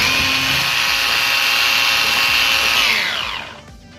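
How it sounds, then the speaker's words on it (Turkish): An electric hand mixer whisking cream with powdered sugar and pistachios, a loud steady whirring whine that holds for several seconds, then winds down and stops. "Çırpmaya devam ediyoruz."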